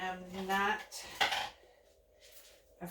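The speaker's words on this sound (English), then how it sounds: "So I'm stirring it really well." A utensil scraping and clinking against a cup while stirring cell activator into acrylic paint, faint, irregular taps and scrapes, with a voice briefly at the start.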